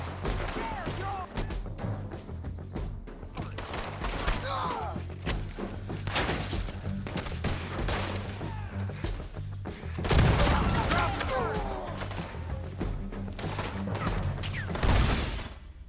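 Rapid gunfire in the video game Red Dead Redemption 2 during a shootout, with dense repeated shots and heavy thumps throughout, louder bursts near the middle and end, and voices shouting in between.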